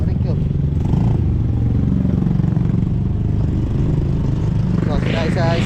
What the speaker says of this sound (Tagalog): May motor tayo sa loob ng Arikyo.